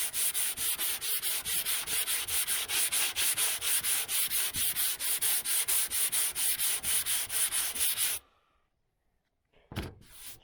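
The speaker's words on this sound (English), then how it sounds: "get some 180 DA paper and go over it with 180 before you prime it" Hand sanding a 1972 Chevy Nova's body panel with 180 grit DA sandpaper, a loud rapid back-and-forth rasping rhythm for about eight seconds, then silence and one short scrape.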